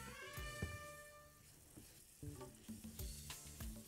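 Butter and flour sizzle and fry in a hot pan while being stirred into a light roux, soft crackling with scraping stir strokes, close and fairly quiet over faint background music.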